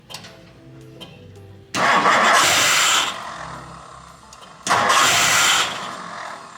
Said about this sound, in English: So now let's try to crank this thing over and see if it'll fire.